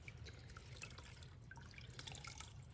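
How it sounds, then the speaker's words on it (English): Water squeezed out of soaked fabric drips and trickles in scattered small splashes, quiet and close, over a low steady background hum. "Squish some of that water out."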